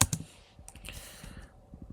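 Quick, light keystrokes on a computer keyboard form a close, soft run of clicks lasting under two seconds, with a couple of sharper taps at the start.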